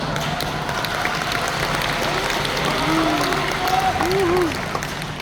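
Church elders applaud in a hall, a steady spread of clapping from a group that swells slightly midway, with a voice talking faintly over it.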